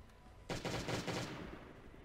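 Burst gunfire in a zombie survival video game, a quick rattling automatic volley that starts abruptly and lasts about a second before fading into background hum.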